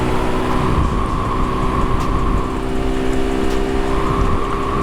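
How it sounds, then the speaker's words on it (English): A Suzuki Gixxer 155cc motorcycle pulls hard toward top speed in fourth gear, its engine a steady loud drone buried in heavy wind rush, heard close from the rider's position. "I'm trying my level best to push this bike to its limit."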